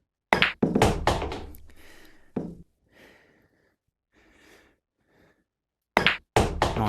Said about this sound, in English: get down and play your shot.